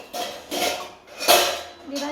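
Dishes and pots clatter and clink in a few bursts while someone tidies up at home, rattling metal and ceramic knocks at moderate loudness, with a voice speaking in the background.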